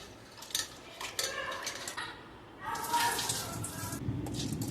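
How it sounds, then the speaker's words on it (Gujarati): Toor dal being rinsed in clean water in a small bowl, with splashing and sloshing bursts and faint clinks of a utensil, fairly quiet and close. "તેને આપણે 2 થી 3 વખત ચોખ્ખા પાણીથી આપણે ધોઈ નાખીશું"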